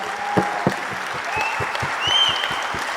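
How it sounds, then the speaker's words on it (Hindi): An audience claps at a Hindi storytelling show, a moderate steady patter of hands with a few louder individual claps, lasting a few seconds. "तालियां,"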